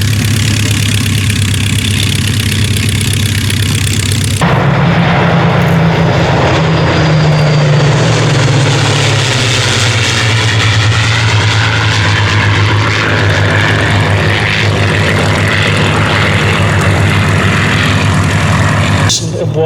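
A loud, continuous roar of a Rolls-Royce Merlin piston aircraft engine passing by at an evening airshow, its throbbing pitch dropping as the plane sweeps past and recedes.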